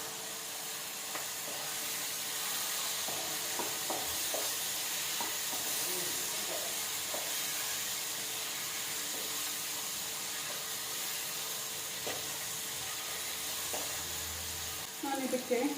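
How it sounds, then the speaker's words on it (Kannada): Spiced masala sizzles and fries in a pan for a potato and capsicum gravy, a steady close hiss broken by repeated clicks and scrapes of a spoon stirring, with a brief louder clatter at the end. "ಫ್ರೈ ಆಗ್ತಾ ಇದೆ"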